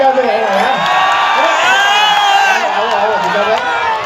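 A live crowd at a Gujarati music event whoops and cheers loudly to welcome a singer onto the stage, with a presenter's amplified voice calling out over the dense, sustained roar.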